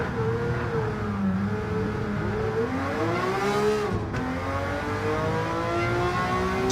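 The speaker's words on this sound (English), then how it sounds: "Just loving the noise of this Ferrari." A Ferrari engine roars and revs in Gran Turismo 7 lobby racing, its steady, loud tone rising and falling through the gears with a brief lift near the end, no voices over it.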